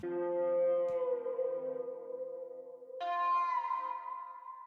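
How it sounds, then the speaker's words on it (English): Two sustained synthetic guitar wah samples in FL Studio on F, the second an octave higher, each ringing for a couple of seconds with no voices. "I got this guitar wah."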